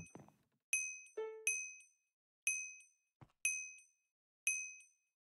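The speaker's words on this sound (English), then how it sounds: "I might just muffle the bell sound in this area, though, because it's a little bit loud." A bell chimes in a video game, five bright, ringing dings spaced about a second apart, each decaying cleanly, with a few softer clanks and a low thud between them; no talking.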